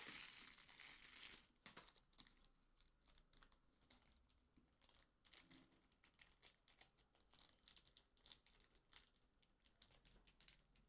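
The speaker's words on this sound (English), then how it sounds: "I'm going to be unboxing or unwrapping and putting on the controllers" A package of controller thumbstick covers being unwrapped: loud plastic crinkling at first, then faint, scattered rustles and soft handling clicks close by.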